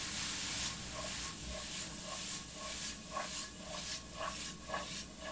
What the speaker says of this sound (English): And then we're going to get our spices into the saute pan.